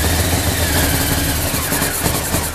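The engine of a 2000 Honda CBR F4 motorcycle with dirty carburetors idles. It makes a loud, close, steady rumble with slight uneven pulsing.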